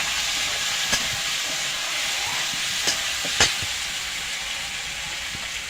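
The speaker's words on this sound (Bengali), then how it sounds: "এই ভেজে রাখা আলুটা দিয়ে দেব।" Fried potatoes go into a pan of spice masala being cooked down for a vegetarian paneer dish, raising a continuous close hiss of sizzling oil with a few sharp clicks and pops scattered through.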